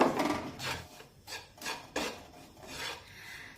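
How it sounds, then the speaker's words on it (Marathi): A spoon scrapes and stirs flour roasting in a pan for banana barfi, a series of soft rasping strokes close by, fairly quiet with no talking. "असं हलवून घेऊया म्हणजे ते खालून करपणार नाही"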